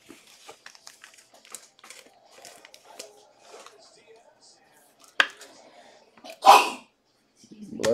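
One sharp, loud sneeze bursts out near the end, following scattered quiet handling noises and light rustling during a sports card break.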